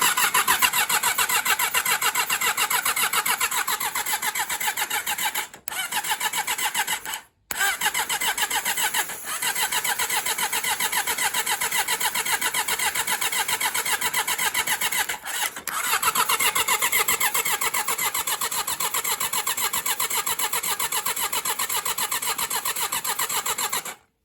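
A Suzuki GSX-F motorcycle engine turns over on the starter in long continuous whirring runs, loud and close, with a few brief gaps where it stops and restarts.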